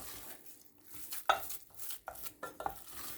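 Choux batter for profiteroles being stirred in a bowl: soft scraping and a few sharp utensil knocks against the side, close and quiet, with no talking.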